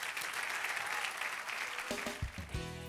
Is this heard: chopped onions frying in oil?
no